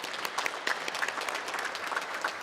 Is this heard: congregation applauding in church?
yes